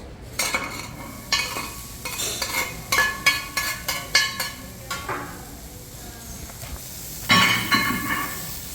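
Vegetables cooking in a pan with olive oil for fried rice, giving a near, steady clatter of stirring and scraping utensils with rhythmic bursts over a soft sizzle, alone without talk.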